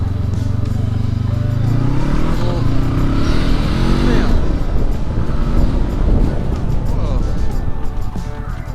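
A Honda CBX motorcycle ridden in Oregon, its engine note rising as it accelerates and then falling away under hard braking, heard loudly from the bike with heavy wind buffeting the microphone and a rider talking over it.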